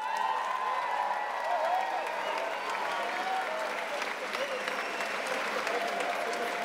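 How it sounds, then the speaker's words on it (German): Steady, dense applause from a large crowd inside an Oktoberfest beer tent in Munich, greeting a female keg tapper, with some cheering mixed in and continuous clapping throughout. "Deswegen einen großen Applaus für unsere Amelie."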